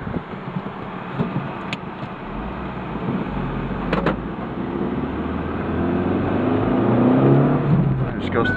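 A 2003 Ford Focus SE hatch with front-wheel drive and a five-speed manual transmission is heard from inside, the engine droning and rising steadily as the car pulls through its gears, loud and continuous with road noise.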